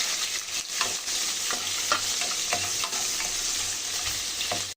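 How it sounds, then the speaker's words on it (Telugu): Sliced onion, green chillies, curry leaves and dried red chillies frying in hot oil, a steady close sizzle with scattered stirring scrapes and pops throughout. "ఒక ఆనియన్ కట్ చేసుకొని తీసుకోవాలి రెండు పచ్చిమిర్చి కరివేపాకు ఒక నాలుగు ఎండుమిర్చిని కట్ చేసుకొని తీసుకోవాలండి ఇవన్నీ ఫ్రై చేసుకోవాలి"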